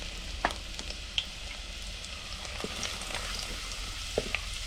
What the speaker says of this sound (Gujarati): હવે આપણે તેલ ગરમ થઈ ગયું છે આ લસણના કટકા નાખી દઈએ